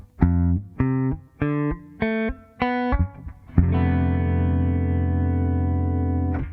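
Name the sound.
Zelda melody, extra octave spreading voicing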